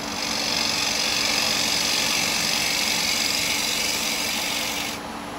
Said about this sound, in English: Going to get me round chisel and come across there.